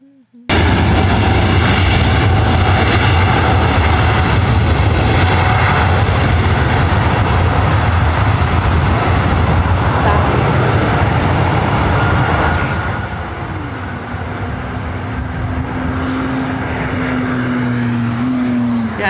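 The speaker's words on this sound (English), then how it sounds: "That's a 747." A Boeing 747 jet airliner struggling to take off, a loud, sustained roar of jet engines heard from a distance, easing slightly toward the end while a rising whine comes through.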